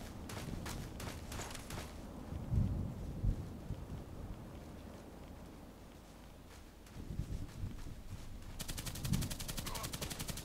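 Rapid automatic fire from the shooter Contract Wars rattles in quick bursts at the start and again near the end, with quieter rumbling and movement noise between them.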